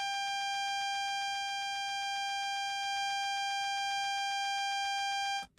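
A continuous electronic alarm tone sounds from the AWS self-test in a train cab in the Train Sim World game, a steady pulsing buzz with bright harmonics that holds loud for about five seconds, then cuts off abruptly.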